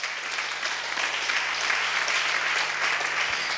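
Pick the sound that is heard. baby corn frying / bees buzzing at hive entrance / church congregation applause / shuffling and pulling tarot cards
church congregation applause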